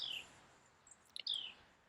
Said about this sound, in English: That bird is yapping away.